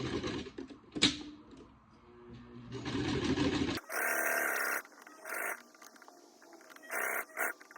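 A sewing machine runs zigzag stitches across fabric for an owl stuffy, with short whirring bursts separated by pauses and some quieter handling noises before the stitching starts.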